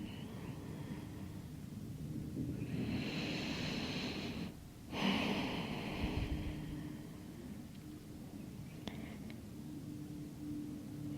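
A yoga session opens with a slow, deep breath followed by a long, breathy exhale through the mouth, soft and close amid a quiet room.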